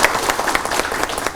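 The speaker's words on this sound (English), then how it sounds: "we will welcome with a round applause, with loud applause today." Loud audience applause welcoming speakers at a university health research methodology program, dense overlapping claps filling the short moment without pause.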